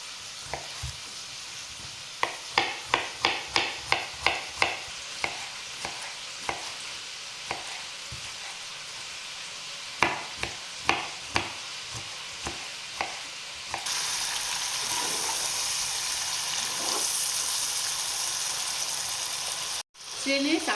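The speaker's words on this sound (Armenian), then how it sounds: "Սիրելիներս, մինչ տապակվի միսը" Meat fries in a pan with a faint sizzle under a run of sharp, evenly spaced knife-like taps, and then the pan breaks into a louder, continuous sizzle for the last stretch.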